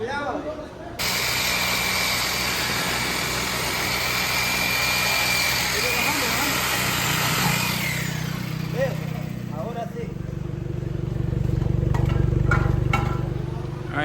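Mira car fitted with a custom exhaust, its engine droning steadily close by with a raspy, buzzing tone before settling into a deeper, lower rumble, with a few clicks and taps near the end.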